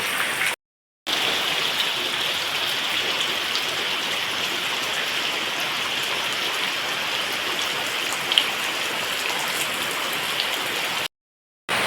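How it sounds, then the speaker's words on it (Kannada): Heavy rain pouring down steadily, a dense continuous hiss of drops on surfaces, loud and unbroken apart from a brief cut. "ಮಳೆ ಮಾತ್ರ ಬಿಡ್ತಿಲ್ಲ"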